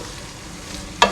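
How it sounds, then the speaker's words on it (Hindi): Onions fry with ginger-garlic paste for a biryani, giving a steady close sizzle and hiss with a brief scraping stir at the end. "प्याज तल रही है"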